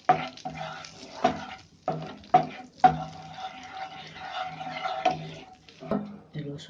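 Spoon stirring Kashmiri red chilli and cinnamon into fish masala in a pan, a series of close scraping strokes with soft sizzling between them.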